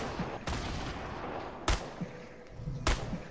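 Gunshots in Fortnite, three sharp loud cracks spaced about a second apart with softer distant pops between them, over a steady background hum.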